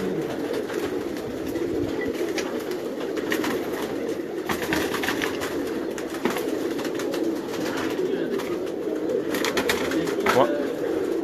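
Pigeons on a Karachi rooftop loft coo steadily in a dense flock, a continuous low murmur with some voices and scattered sharper sounds over it.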